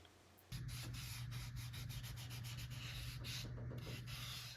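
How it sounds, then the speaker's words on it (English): Filler primer is wet sanded with 600 grit sandpaper, a steady, close scraping rub that starts abruptly after a brief pause and keeps a fast back-and-forth rhythm with no speech. "then wet sanded with 600 grit sandpaper"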